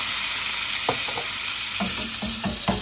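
Half a cup of Chardonnay simmering and sizzling in a pan for chicken piccata, a steady hiss broken by a few soft stirring knocks, with no one speaking.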